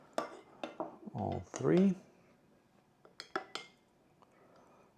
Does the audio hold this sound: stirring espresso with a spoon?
yes